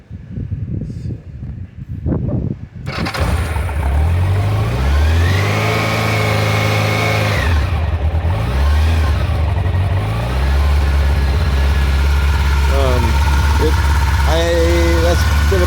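A 1993 Honda Nighthawk CB750 four-cylinder motorcycle cold-starts after a week unused, cranking then catching into a loud, close, steady idle with several rising and falling revs, with some handling noise at the start.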